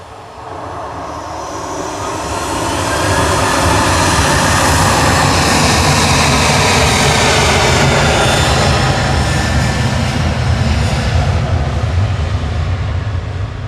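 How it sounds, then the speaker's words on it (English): An Airbus A350 jet at Manchester Airport gives a sustained, loud engine roar that swells over the first few seconds and holds steady, broadband and rumbling, with no talk over it. "you can see the A350 in the distance"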